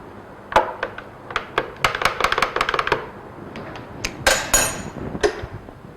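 A spoon clinks and scrapes against a hard container in quick irregular taps, close and fairly loud, with short pauses between bursts.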